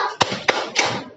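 Children in an elementary school class clap a thumb-clapping chant, three sharp claps spaced about a third of a second apart, close and loud over a busy room.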